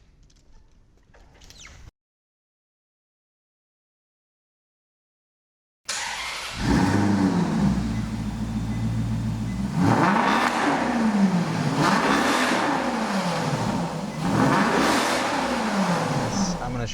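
A 2009 Maserati GranTurismo S engine fires up after a brief pause and settles into a loud, rumbling idle, then revs sharply several times in quick bursts.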